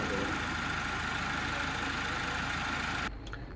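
Mazda CX-5 engine running at a steady idle, a dense even mechanical hum with a faint knock, close and continuous before cutting off abruptly near the end.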